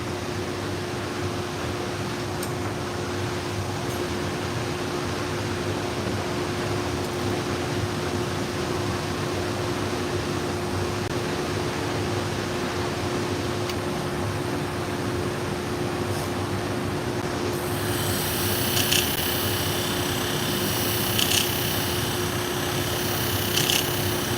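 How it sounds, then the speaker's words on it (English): Salon shears are sharpened and polished on a sharpening machine, a steady close whirring hum with a faint abrasive rub that brightens into a harsher grinding hiss near the end. "This is the first shears I've sharpened with it."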